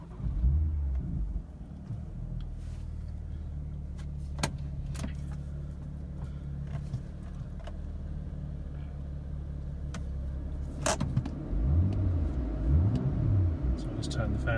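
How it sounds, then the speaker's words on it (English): A BMW M2 fires up via keyless push-button start, its engine settling into a steady low rumble that carries on throughout, with a brief rev rise near the end. "It's got a keyless start, so the key's in my pocket. You just press the button,"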